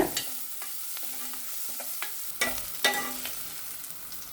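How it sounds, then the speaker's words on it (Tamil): Grated mudavattukal root and crushed ginger sizzle softly in a pan while a spoon scrapes and stirs, with a few sharper clanks against the pan's side. "நல்லா வதக்கிக்கோங்க இதோட இடித்த இஞ்சி பொடியும் சேர்த்து நல்லா வதக்கிக்கோங்க"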